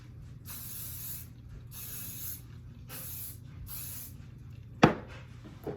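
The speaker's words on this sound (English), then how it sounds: "And I'm going to spray it all through my hair." Hairspray from an aerosol can is sprayed through hair in four separate hissing bursts, close and steady, followed by a sharp click or tap.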